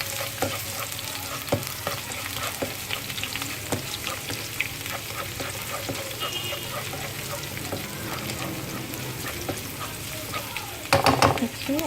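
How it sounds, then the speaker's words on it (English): Onions and Chinese cabbage stir-fry in a hot pan, a steady close sizzle broken by frequent stirring clacks and scrapes, ending with a louder burst of tossing, with no talking. "it's a very quick stir fry"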